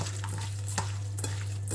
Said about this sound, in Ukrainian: вимішуємо наші фрикадельки